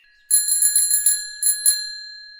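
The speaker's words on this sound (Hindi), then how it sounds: "घंटी की आवाज सुनते ही कुकू वहाँ से उड़ जाता है" A bicycle bell rings in a quick series of bright metallic dings, then two more after a short pause, each leaving a clear ringing tail.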